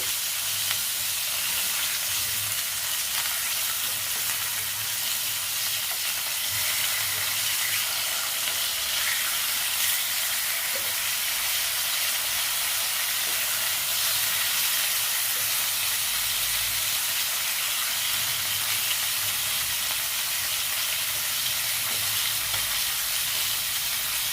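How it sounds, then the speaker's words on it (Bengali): Pieces of katla fish fry in hot oil, giving a continuous even sizzle and hiss that holds steady throughout, close and moderately loud with no talking. "দেখো মাছগুলো ভেজে নিচ্ছি।"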